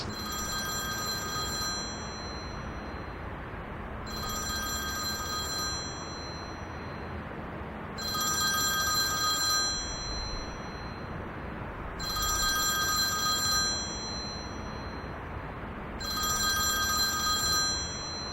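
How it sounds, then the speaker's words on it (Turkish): A telephone rings in a domestic drama scene, with five regular bursts of bright electronic ringing separated by short pauses over a steady background hum, fairly loud and close, with no talking. "Telefonu çalıyor."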